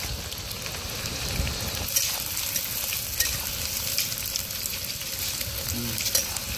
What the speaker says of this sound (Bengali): হ্যাঁ দাও, সব পেঁয়াজ ঢেলে দাও একবারে।